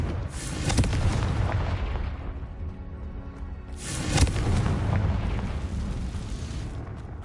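Two heavy booming blasts of the Confringo fire spell in a wizarding video game, the first near the start and the second about midway, each followed by a rolling rumbling decay.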